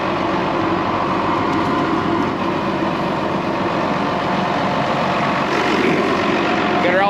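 A farm tractor idles on a morning hay-feeding run, its low engine rumble steady and close throughout with a rattling drone and no clear speech.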